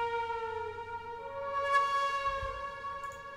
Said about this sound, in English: Decided to change up the flute sound.